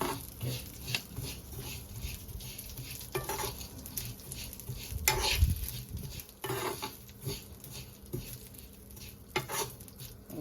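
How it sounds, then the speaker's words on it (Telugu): Ingredients for a homemade sweet fry in a pan until light brown, a soft steady sizzle with frequent scraping stirs and utensil taps against the pan, close and fairly quiet. "దాంట్లో మనం దీన్ని వేయించుకోవాలి అంటే లైట్ బ్రౌనిష్ కలర్కి వచ్చే వరకు"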